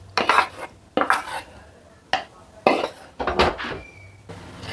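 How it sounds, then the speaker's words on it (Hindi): Fried vegetables and tempering tipped into rice in a kadhai and stirred, giving bursts of metal spoon scraping and clattering against the pan in uneven strokes, fairly close, with brief pauses between. "मैं इसी चावलों की कढ़ाई में इस सब्जियों को, तड़के को डालूँगी।"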